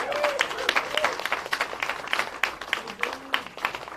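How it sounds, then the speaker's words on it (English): A crowd of campaign supporters at an Arizona rally applauds, a moderately distant, uneven patter of many hands with sharper individual claps standing out and faint voices mixed in. "Give yourselves a big round of applause."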